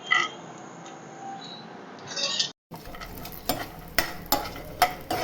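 Cut cashews and almonds fry lightly in hot ghee for a kuli paniyaram recipe, with soft sizzling and stirring, then sharper scrapes of a spoon against the pan.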